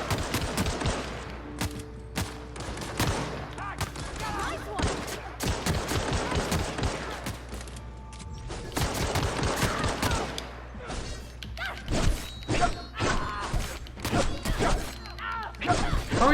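Gunfire in the video game The Outer Worlds crackles in rapid volleys of sharp shots and thuds, bursts overlapping through the whole stretch with occasional voices under the fighting.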